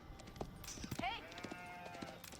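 Sheep bleat in Age of Empires IV, a few short, wavering calls over soft clip-clop and game clicks, heard under a man's speech.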